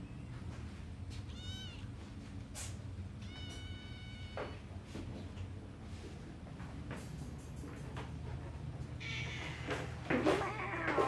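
Several cats meow in turn, rising and falling calls at moderate distance over a steady low hum, with a louder burst of noise near the end.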